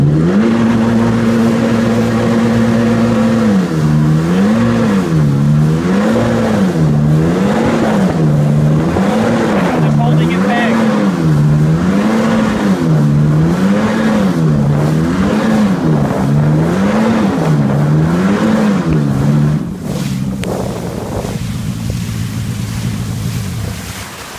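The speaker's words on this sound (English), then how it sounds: "All right, give it some gas. I'm gonna go full throttle here." A 1995 Sea-Doo GTX personal watercraft engine held at full throttle, loud and close, its pitch surging up and down in a steady repeating cycle for about twenty seconds before easing off at the end.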